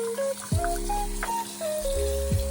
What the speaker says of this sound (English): What you want to do is add a bit of cold water.